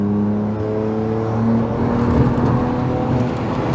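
A BMW E89 Z4 sDrive35i accelerates, heard from inside the car as a throaty engine drone rising in pitch under load, loud and continuous with road noise beneath.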